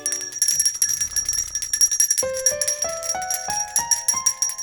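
Bright bells ring in a steady rising sequence of struck tones, one after another, loud and close, with a busy jingling texture before the chimes begin.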